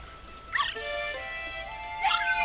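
A cartoonish dog in the video game Luigi's Mansion 3 gives two short whimpering yips, one near the start and another near the end, over a sustained musical tone from the game.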